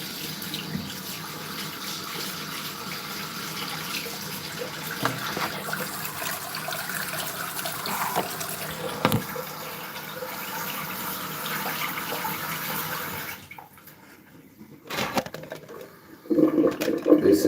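A tap runs steadily at a bathroom sink during a nasal sinus rinse, a continuous moderate splashing hiss that drops away briefly near the end before resuming with some louder bursts of handling noise.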